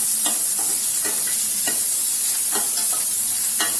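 Onions sizzling steadily in a hot pan over medium flame for egg gravy, with repeated scraping and stirring strokes of a spatula at an uneven rhythm.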